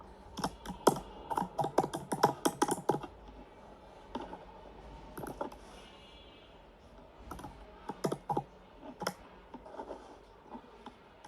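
A computer keyboard is typed on close by while names are entered into an Excel spreadsheet, with quick bursts of clicky keystrokes separated by short pauses. The typing is fairly quiet and no one speaks.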